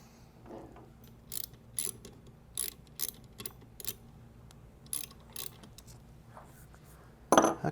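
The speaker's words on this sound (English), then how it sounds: "we've got the green grounding screw tightened back up" A screwdriver tightens the green grounding screw while wiring a WhisperFlo pool pump for 115V, giving scattered short metallic clicks and ratcheting ticks, close and isolated against quiet.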